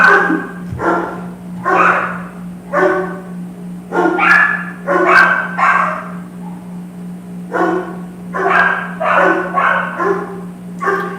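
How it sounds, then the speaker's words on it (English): Several dogs bark close and loud in repeated bursts, overlapping yips and barks coming in uneven clusters with short pauses, over a steady low hum. "enjoy the rhythmic music of these dog gurus."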